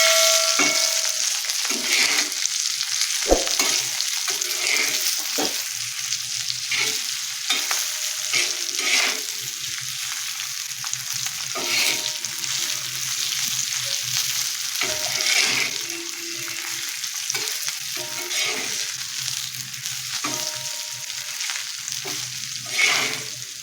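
Green chillies and garlic frying in a pan for a rustic Maharashtrian chilli thecha, with a steady close sizzle and repeated scraping stirs of a spatula throughout, no talking.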